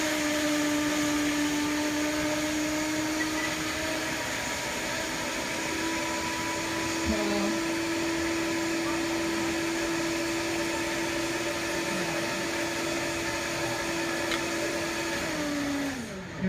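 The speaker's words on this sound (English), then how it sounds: "If you don't have a high-speed blender, put it in a saucepan" A high-speed blender running continuously at a steady high pitch, loud and close, with the motor winding down briefly near the end.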